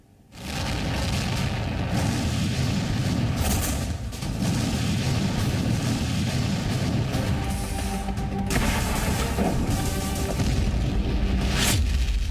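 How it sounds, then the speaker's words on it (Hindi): Heavy Russian artillery fires in Ukraine, with deep booms rolling over a continuous rumbling background and sharper blasts standing out near the middle and end. "यूक्रेन में गरज रही रूसी तोपों की आवाज।"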